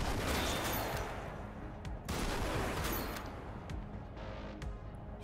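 Rapid, loud gunfire in the video game Mullet Mad Jack, a dense fusillade of overlapping shots with brief dips and sharp single cracks near the end.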